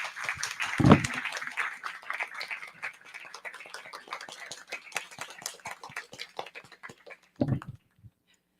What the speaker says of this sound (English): I'd like a big hand of applause for our fabulous panelists.